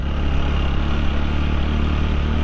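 Motorcycle engine running steadily on a rough mountain trail between Mirinja valley and Marayong Tong, a close, continuous mid-pitched drone with slight clatter and no clear surge, filling the whole stretch alone.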